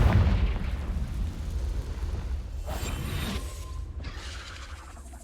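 A Confringo spell blast in Hogwarts Legacy: a deep booming impact at the start that rolls off into a fading rumble, followed by softer whooshing spell effects.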